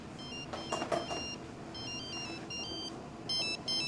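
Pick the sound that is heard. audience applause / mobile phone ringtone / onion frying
mobile phone ringtone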